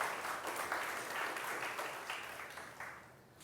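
A school audience gives a round of applause at a student recognition event, with soft, continuous clapping from a crowd that slowly tapers off over a few seconds.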